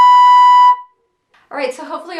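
A brass instrument sustains a loud, steady note as a lip-slur flexibility exercise, cutting off abruptly before a pause, then talking starts.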